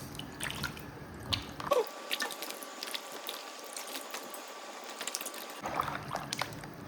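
Water trickles and drips steadily in a quiet room, with a few clinks and splashes at the start and end.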